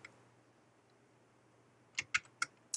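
Keys on a computer keyboard clicked while typing in Flash: a handful of quiet, crisp taps near the end, after a stretch of low hum.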